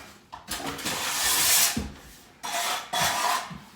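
A tool scrapes DryZone plaster off a wall in three or four rasping strokes, each a harsh rubbing sweep with short pauses between, close and fairly quiet, with no talk.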